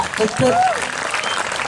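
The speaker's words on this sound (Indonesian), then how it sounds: "tepuk tangan" Audience applause at a Balinese Bondres Arja comedy performance in Mengwi, a steady wash of clapping heard alongside a voice speaking.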